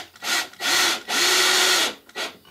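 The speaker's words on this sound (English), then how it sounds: "I'm going to go ahead and drill each one of these in so it's all pre-tapped" A power drill drives screws into a shipping container in three or four bursts, each whir rising and stopping as it drives in, close and loud with short pauses between.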